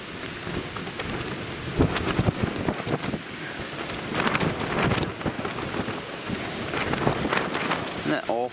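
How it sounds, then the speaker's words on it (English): Strong wind gusting against a tent on a mountain crag during an overnight wild camp, roaring and buffeting in heavy waves that swell and fade, loud and close with flapping fabric. "I'm sick of this wind"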